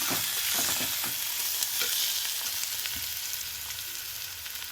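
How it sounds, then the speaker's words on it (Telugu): Turmeric and ginger-garlic paste frying for mutton keema, an even close sizzle with soft stirring scrapes that gently fades in loudness toward the end, no talk. "బాగా ఫ్రై చేసుకోవాలండి"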